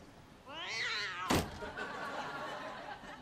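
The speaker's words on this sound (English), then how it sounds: "We have a cat problem." A single drawn-out cat meow rises and falls, close and moderately loud over a room-tone hiss, followed by a sharp clack.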